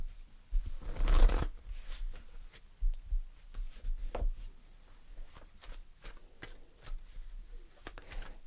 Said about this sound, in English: So I'm going to pull an extra card.